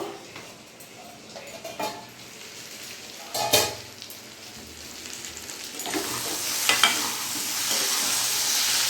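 Elephant foot yam frying in a pan as the lid comes off, a continuous sizzle that swells louder toward the end, punctuated by clanks of the lid and utensil scrapes against the pan.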